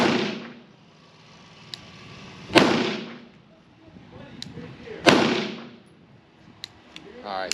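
Three loud, sharp gunshots from a SIG P211 pistol fired at a target, spaced about two and a half seconds apart, each with a short ringing decay, plus faint metallic ticks between them.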